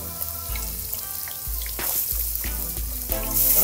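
A chub fish backbone deep-frying in hot oil, giving a steady, close, vigorous sizzle with bubbling crackle throughout.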